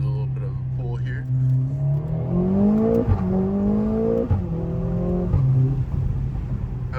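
A car's engine revs rise and fall through several gear changes as it accelerates, with sharp exhaust pops and crackles heard from inside the cabin while someone talks over it.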